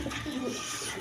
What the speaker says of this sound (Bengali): পেশোয়ারি লাহোরি কবুতর, একদম বিগ সাইজের দেখার মতো কবুতর